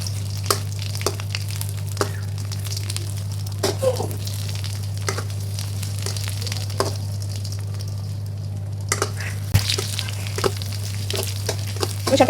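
Mustard oil foaming and sizzling in a pan as food fries, a continuous close crackle with scattered sharp pops and clicks over a steady low hum.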